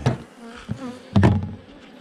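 A hornet buzzing close by near a beehive, a short loud drone that swells and fades in two passes over a couple of seconds, alone without talk.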